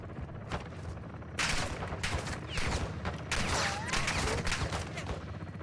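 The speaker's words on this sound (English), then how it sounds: "Where are they all shooting at me from?" Gunfire in Call of Duty: Modern Warfare II: sustained rapid shots and bursts from several weapons, loud and close, forming a continuous fusillade with faint movement noise between the bursts.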